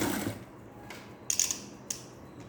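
A sewing machine stitches a princess-cut blouse in short bursts, a faint mechanical whir followed by two quick clattering runs of the needle, close and otherwise quiet.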